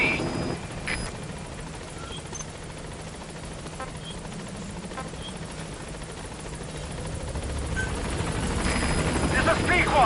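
The Pequod helicopter arrives at a landing zone in Metal Gear Solid V, its steady rotor and engine roar filling the scene and swelling louder toward the end, with voices speaking over it.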